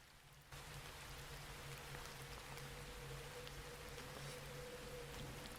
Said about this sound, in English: I hope you like the rain sounds in the background, by the way.